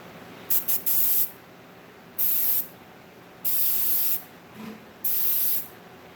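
An airbrush sprays in short hissing bursts, roughly five of them with a couple of brief puffs at the start, loud and close with quiet gaps between and no talking.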